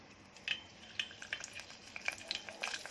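Curry leaves dropped into hot mustard oil with mustard seeds, giving a light crackling sizzle with scattered pops and spits that grow busier toward the end, fairly quiet and without talking.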